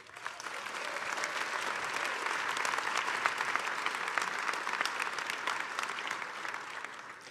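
Conference audience applauding supporters at DrupalCon Atlanta 2025 in a large hall, sustained crowd clapping that rises quickly, holds a steady level and fades toward the end.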